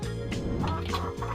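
A chicken sound effect: a brief, loud burst of throaty, gobbling clucks from a fowl, close up and heard on its own.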